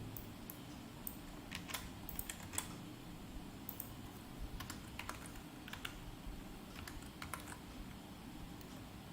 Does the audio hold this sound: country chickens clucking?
no